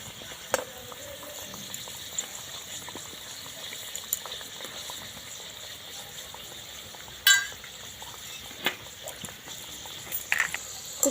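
Saptapuri pitha fry in white oil in a pan with a soft, steady sizzling hiss, broken by a few scattered clicks and one sharper crackle midway; no voices.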